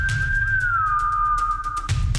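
A single sustained whistled tone, clear and fairly loud, gliding slightly downward and holding steady for about two seconds over a low background rumble.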